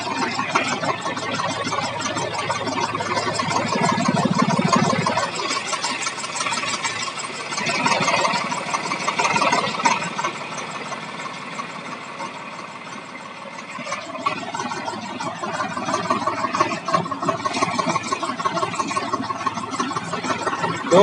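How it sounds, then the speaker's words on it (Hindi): A 1997 Swaraj 735 FE tractor engine runs steadily while irrigating farm fields, a fairly quiet, continuous mechanical chatter with no pauses. "और ट्रैक्टर की आप साउंड सुन सकते हैं भाइयों"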